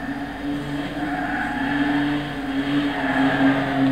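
Virtual Volkswagen Golf IV R32 with its VR6 24V engine driving in Gran Turismo 6, a steady, loud engine drone with sustained tonal hum and mild shifts in pitch, no voices over it.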